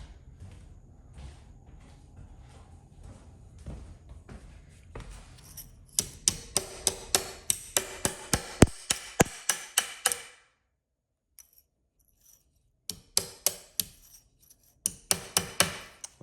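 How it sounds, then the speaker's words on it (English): Sharp metallic taps from a peg hammer striking a pinball machine, at first soft and scattered, then a fast loud regular run of close strikes, a brief pause, and more bursts of hits. "Let me get my peg hammer and finish that off."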